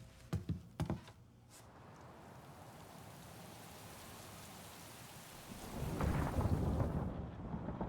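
A thunderstorm in the Mafia: The Old Country video game opens with sharp thunder cracks, then steady rain hisses on surfaces and swells louder near the end, with no voices.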